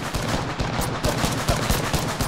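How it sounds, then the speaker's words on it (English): Gunfire rattles in the Apex Legends video game, a quick run of sharp, fairly close shots in uneven bursts over steady game ambience, with no talk. "we're getting shot at"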